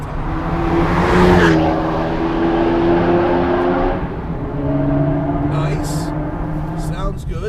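A Mountune Stage 3 tuned Ford Focus ST Clubsport driving through a tunnel, its engine droning and rising in pitch with echoing reverberation, a sustained moderate rumble with a brief swell, fairly quiet overall.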